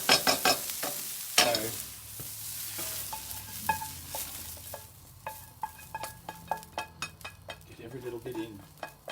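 Onions fry in a pan for winter melon soup, with a steady close sizzle and a scrape and clatter of stirring. A voice speaks one short word near the start.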